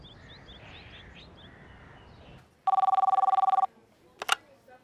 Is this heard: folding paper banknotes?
no